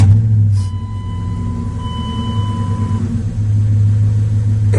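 Dodge Ram with a 5.9 liter engine idling just after start-up, a close, steady low rumble with a faint thin whine above it.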